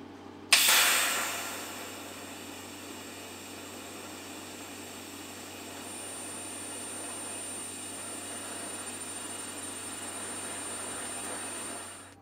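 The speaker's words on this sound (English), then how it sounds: "So now it's time to start fully welding the joints" Exhaust joints on a Honda CX650 E cafe racer being fully welded, starting with a sharp strike and then a steady, even hiss and buzz that holds for about twelve seconds before stopping.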